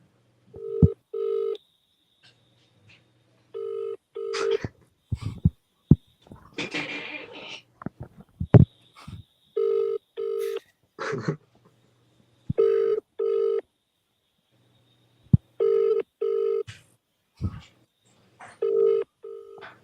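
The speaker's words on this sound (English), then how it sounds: "It's ringing." A telephone rings repeatedly in double pulses with pauses between, fairly close, interrupted now and then by clicks, knocks and brief noises.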